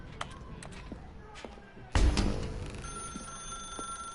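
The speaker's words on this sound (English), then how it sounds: "Now pick up the phone" Telephone in The Stanley Parable 2 starts ringing after a thud, a steady electronic ring that continues alone at moderate loudness.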